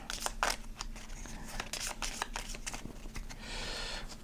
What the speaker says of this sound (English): So then I would shuffle all these